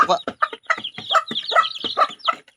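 Chicks cluck in quick, close bursts while being fed, a steady run of short calls over about two and a half seconds.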